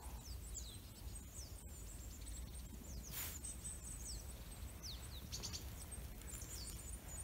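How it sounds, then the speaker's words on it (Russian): Birds chirping and calling in a winter forest in December, faint high twitters scattered over a low steady background hiss, with no talking. "не только в теплый период года можно насладиться пением птиц"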